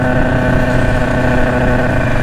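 A tuned 96 Bidalot WR motorcycle engine, prepared and set up on a dyno, revs hard and close up, a loud continuous buzzing drone with dense harmonics and no pauses.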